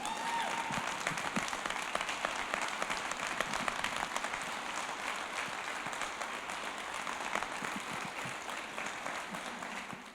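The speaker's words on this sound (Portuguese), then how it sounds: "Uma salva de palmas para Jesus." A church congregation applauds at a Sunday worship service, a steady, dense wash of many hands clapping that holds evenly for about ten seconds at moderate distance.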